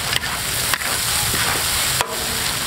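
Green and red peppers with scallions, shredded ginger and salt stir-fried in a wok, a loud close steady sizzle broken by a few sharp scraping tosses of the spatula.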